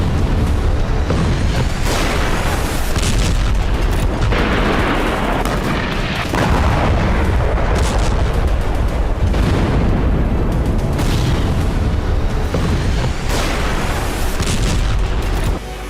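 Loud, continuous barrage of heavy drone strike blasts and booms, with deep rumbling and crackling that barely lets up throughout.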